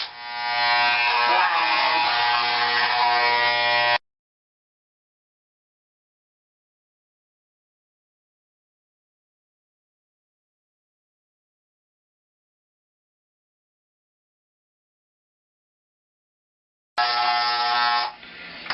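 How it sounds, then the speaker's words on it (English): An old, noisy electric hair trimmer buzzes loudly and steadily while shaving a head, running for about four seconds, falling silent for a long gap, then starting up again near the end. "This makes a lot of noise because it's a lot older. It's a really old trimmer actually."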